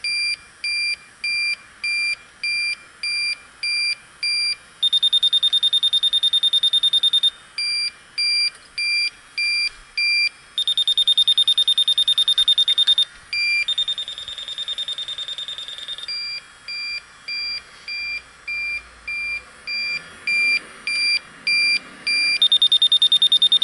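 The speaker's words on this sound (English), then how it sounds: "I hate using leak detectors." Electronic refrigerant leak detector on a rooftop, beeping in rapid regular pulses that break into steady sustained tones and then resume pulsing, loud and close with faint wind behind it.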